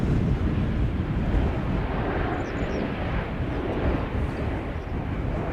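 A KLM Embraer 190 airliner arrives at Schiphol Airport from Copenhagen, producing a loud, continuous broadband engine roar with heavy wind rumble throughout.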